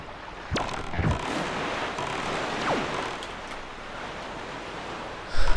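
High wind roars over open sea in The Legend of Zelda: The Wind Waker, a steady broadband rush with surf-like swells and a couple of brief gusting whooshes, no talking.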